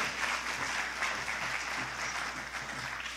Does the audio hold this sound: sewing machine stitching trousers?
no